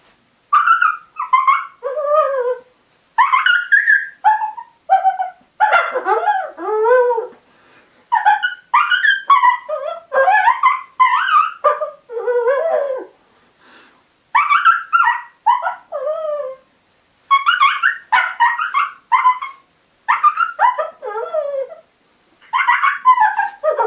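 A hand-operated predator call mimics female coyote whimpers in a close, loud series of high, wavering whines and yips, delivered in bursts of several notes separated by short pauses over about twenty seconds, with no talking.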